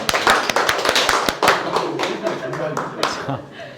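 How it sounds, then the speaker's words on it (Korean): A small group at a Korean book-coaching session claps to close an exercise, with sharp, distinct hand claps that start dense and thin out over a few seconds, heard up close in a room. "박수로 마무리합시다."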